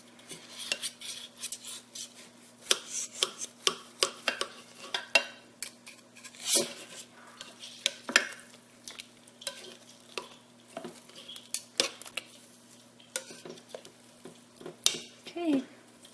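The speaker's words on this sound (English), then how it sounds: "I'm also turning it flat to kind of get it down in those juices more" Slow-cooked pulled pork being cut and turned in its juices inside a slow cooker, with irregular close scrapes and clinks of a utensil against the pot over a soft wet sizzle.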